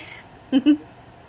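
Two short meows in quick succession, fairly close and clear, over a quiet room background.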